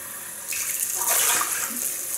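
A tap runs steadily close by as a shaving brush is rinsed under it, with the water hiss swelling briefly as the brush passes through the stream.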